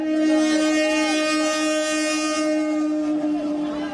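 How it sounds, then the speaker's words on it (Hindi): A train approaches on the track in India during a rail blockade protest, its horn blaring loud and continuous with a rich, sustained tone over the rumble of the moving train. "ट्रेन लगातार चेतावनी के लिए हॉर्न भी दे रही है"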